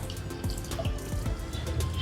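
Water runs from an automatic dispenser in a quiet, steady trickle with small splashes and drips, fairly close and with no talking.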